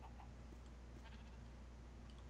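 Sheep bleating in the Minecraft modpack Agrarian Skies 2, a game animal cry at low level over a steady background hiss, brief and somewhat faint with no talking.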